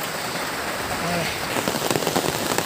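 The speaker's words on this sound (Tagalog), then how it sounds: "inabot kami ng ulan dito" Rain falls steadily on a rural property in Bicol, Philippines, a close, even hiss with scattered patter on surfaces, while voices are heard faintly beneath it.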